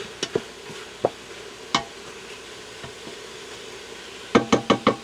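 Smoked bacon from a local butcher cooks in a pan: a low, quiet sizzle runs beneath scattered sharp clicks and taps, including a quick cluster of four near the end.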